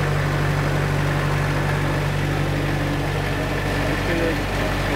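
A generic aircraft nitrogen generator engine warms up at 1500 RPM, idling in a loud, steady, low drone with constant vibration and a hum, close by and unbroken.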